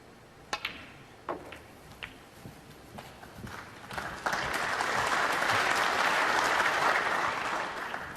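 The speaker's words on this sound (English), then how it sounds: "Round of applause." Snooker crowd applause during Xiao Guodong versus Ronnie O'Sullivan, starting with a few scattered claps and ball clicks, then swelling into a loud, sustained ovation from the audience.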